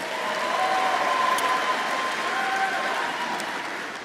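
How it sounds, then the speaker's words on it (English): Audience at a university fall commencement ceremony applauding graduates, a sustained, even round of clapping from a large crowd filling the hall, swelling early and tapering slightly toward the end. "Please give them a round of applause."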